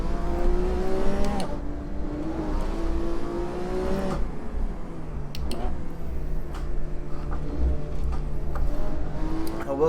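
A Lamborghini Aventador SV engine in the racing game Assetto Corsa, revving and shifting steadily with a droning tone that rises and falls, continuous and moderately loud, with no talking.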